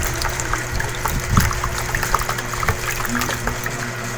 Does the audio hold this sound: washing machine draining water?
yes